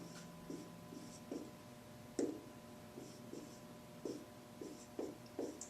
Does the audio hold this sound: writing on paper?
yes